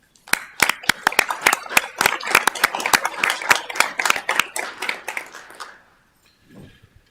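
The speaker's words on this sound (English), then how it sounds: "I think we should give them a round of applause." A modest group at a Fargo city commission meeting gives a round of applause for public health nurses, a scattering of distinct handclaps close by that builds, continues for several seconds, then stops abruptly, followed by a faint murmur.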